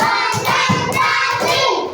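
Group hand clapping during a classroom ice-breaking game, several sharp claps landing in a steady counted rhythm, close and fairly loud over a murmur of children.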